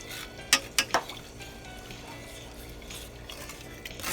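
Penne pasta is stirred in a pan, a quick run of three bright utensil clinks against the metal followed by steady soft scraping and a faint sizzle underneath.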